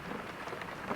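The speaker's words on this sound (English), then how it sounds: "It is pouring out." Heavy rain pours outside as a steady, dense hiss with scattered drop patter, even and continuous at low level with no voices.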